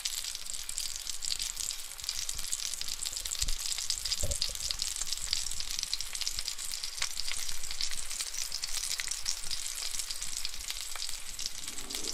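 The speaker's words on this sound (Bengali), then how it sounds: "উচ্ছেগুলো গরম তেলে দিয়ে ভেজে" Bitter gourd fries in hot oil in a wok, sizzling and crackling steadily and close up, a constant frying hiss with a few soft pops.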